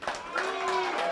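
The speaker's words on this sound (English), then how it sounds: "How about a nice round of applause for Luke?" Comedy club audience in Carson City applauding a comedian, a brief burst of clapping with crowd noise that starts abruptly and holds steady, with some voices mixed in.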